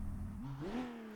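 A six-cylinder car engine in the CarX Street video game revs up, the pitch climbing steadily midway through and then holding a strained, droning note. The engine is close and fairly loud, with no talking.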